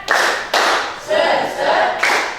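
A classroom of students claps a rhythmic spirit cheer in unison, loud bursts of clapping arriving in distinct grouped beats with brief pauses between them.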